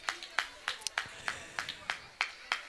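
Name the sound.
audience applause at church kids programme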